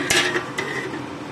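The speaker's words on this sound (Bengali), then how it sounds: "এটা চাপা দিয়ে দিচ্ছি।" A lid is placed over a pot of chicken curry, giving two quick metallic clanks, the first louder, followed by a faint rattle as it settles.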